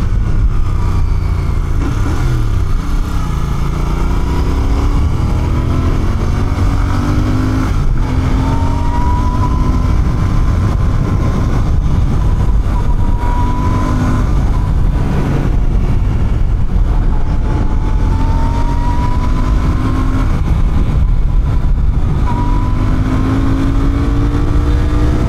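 A Royal Enfield Bear 650 motorcycle engine runs loud and close, its steady idle rumble broken by repeated rising revs that climb and fall back over and over.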